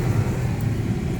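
The rear blower motor fan of a 2004 Honda Pilot runs at full speed, giving a steady, close, low whooshing hum of moving air with no voices over it.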